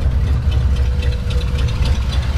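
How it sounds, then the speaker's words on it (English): A 1960 Chevrolet Impala with a 283 two-barrel V8 and dual exhaust idles steadily close by, giving a deep, even rumble with a faint regular ticking and no talk. "It's got some nice sounding dual exhaust on it."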